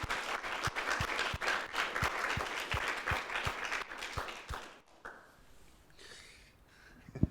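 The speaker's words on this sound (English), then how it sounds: "Please, warm round of applause for all of these." Audience applause for presenters at a creative conference, a steady crowd clapping for about five seconds before fading into quiet room noise with faint murmurs.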